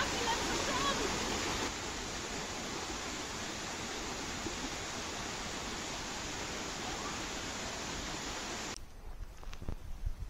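Steady broadband rush of a waterfall in a forest near the tea fields of Yame, Japan, loud and continuous for most of the stretch before cutting away abruptly near the end.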